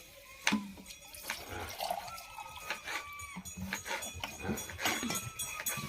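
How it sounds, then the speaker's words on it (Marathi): Water spills and splashes into a metal pot, irregular pours and drips with a few sharp clinks, fairly quiet, with faint background noise. "घागरीत पाणी सांडतंय"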